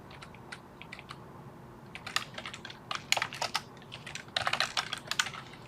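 Typing on a computer keyboard while coding a union-find demo: irregular bursts of close, crisp key clicks, sparse at first and then denser, quick runs, with no talking.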